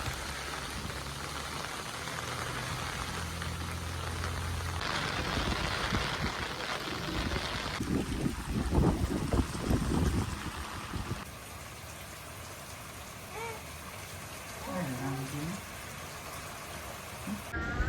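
Rain patters steadily outdoors in a Kuttanad village in Kerala during fishing, mixed with splashing water and some distant rumbling activity, fading to a softer hiss with faint chirps toward the end.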